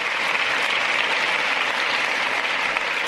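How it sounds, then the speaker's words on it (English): Steady, dense audience applause fills the whole stretch at an even, loud level, with no voices breaking through. "Now let's hear the whole applause."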